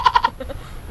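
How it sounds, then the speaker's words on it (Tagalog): A farm goat bleats three times in quick succession close by, followed by quieter low rustling and faint background noise. "So ayan yung isa naming kambing."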